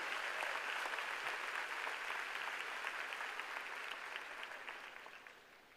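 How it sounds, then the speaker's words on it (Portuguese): Sustained applause from a church congregation during a sermon, dense and steady clapping that fades slightly toward the end, with no speech. "Você consegue aplaudir ao Senhor pela sua palavra agora?"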